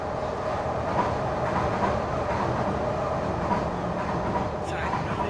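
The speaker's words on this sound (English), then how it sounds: "I noticed so many trains." Trains pass through a city neighborhood in Kensington, Philadelphia, a loud continuous rumble and rattle of rail cars with a brief high squeal near the end.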